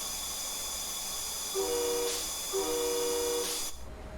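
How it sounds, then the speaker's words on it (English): An MBTA commuter train in the simulation game Train Sim World 2 rolls along with a constant mechanical hiss and hum, while two short steady horn-like tones sound a second apart before the noise drops away. "You're driving a train."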